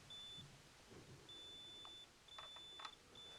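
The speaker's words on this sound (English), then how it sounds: "See how when I press the button, it beeps." Short, thin electronic beeps from an Acer Predator computer repeat several times at a low level, with faint clicks of its power button being pressed between them.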